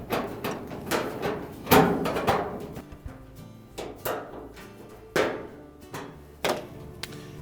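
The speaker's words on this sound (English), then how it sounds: "we'll take a 5/16 nut driver and we're going to remove 2 screws at the top that secure that front panel to the cabinet" Screws being backed out with a 5/16 nut driver from the front panel of a Whirlpool dryer, heard as a series of close metallic taps and thunks with short clattering bursts scattered irregularly, without speech.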